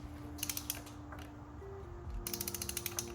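A ratchet with an extension works on spark plugs in a B8 Audi A4, making two close bursts of rapid clicking separated by a pause under a low background hum.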